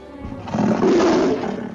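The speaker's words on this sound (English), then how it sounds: "Here is one of his competitors, the big cat, the mountain lion, the puma." A mountain lion, or puma, lets out a single loud, rough roar that swells and holds for about a second, close and unaccompanied by talk.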